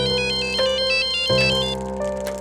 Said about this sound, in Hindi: फिर प्रीति को उसके मोबाइल पर लोकेश और राकेश के फोन आने लगे।